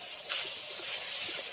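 Garlic paste hitting hot oil in a pan with onion and green chillies, giving a soft steady sizzle and hiss that swells slightly partway through, close and fairly quiet.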